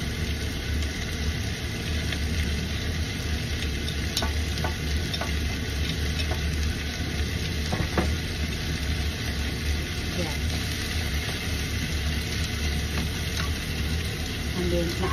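Ginger being stirred and fried with fish in a pan, a dense steady sizzle with scattered scraping ticks from the utensil, continuous and close throughout.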